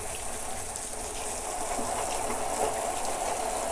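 Garden hose spraying water into a rain barrel being cleaned, a steady hissing gush with a hollow splashing undertone that runs continuously at close range, with no talking.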